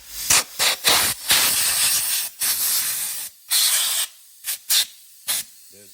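Compressed air blasts chips off a freshly CNC-milled part in a home shop, a string of loud, close hissing bursts of varying length with short pauses between them.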